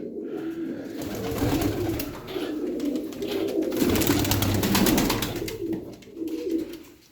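Several pigeons coo in a loft, low throaty rolling calls overlapping continuously, close by, with faint rustling and wing flutters mixed in.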